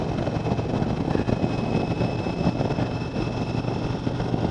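A 2020 Indian Roadmaster Darkhorse motorcycle rides along leaning through turns, its engine a steady low drone blended with constant wind rush.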